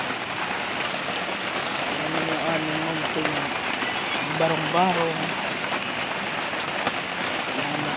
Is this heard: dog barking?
no